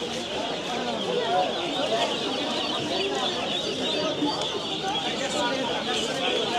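Roosters and hens cluck at a busy village livestock market in Dohar, their calls scattered through a steady crowd murmur and people talking nearby.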